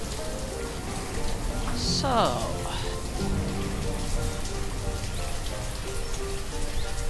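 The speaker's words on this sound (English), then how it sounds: "it looks like a nice, dreary, rainy day here" Steady rain falls on surfaces in the video game Banished, a dense, even hiss that continues throughout, with a brief spoken word over it.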